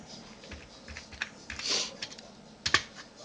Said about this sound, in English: Now type a different command.